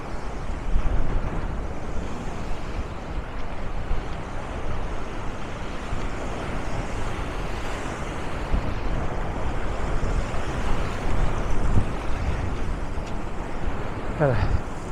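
Ocean waves surge and splash against the shore close by, a loud continuous wash with heavy wind buffeting the microphone.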